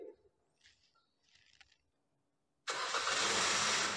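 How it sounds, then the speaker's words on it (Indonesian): A car engine being started during an automatic transmission fluid (ATF) machine procedure: a quiet lead-in with faint sounds, then the engine catches abruptly and settles into a loud, steady running roar. "Oke, kita langsung nyalakan mobil."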